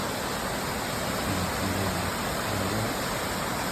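Fast, strongly flowing stream water tumbling down a waterfall course gives a steady, dense hiss and rush, moderately loud and unbroken, with a faint low hum briefly rising beneath it.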